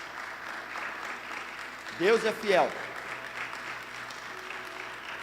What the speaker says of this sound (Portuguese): Você pode aplaudir Jesus de novo pelos milagres?